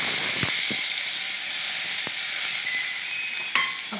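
Soaked toor dal goes into hot tempering and sizzles with a steady hiss close by, broken by a few clinks and taps.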